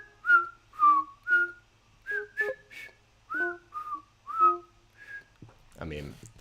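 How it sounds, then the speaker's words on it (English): A person whistles close to a microphone, a series of about ten short, clear notes with small pitch slides at a fairly steady pace, ending with a breathy burst of noise. "that's a lot of my whistling not being great"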